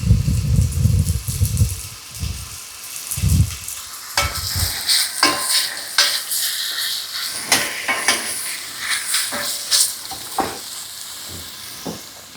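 Meat for a hunter's stew browning in a hot pan, with a steady loud sizzle early on that gives way to scraping stirs and intermittent crackles.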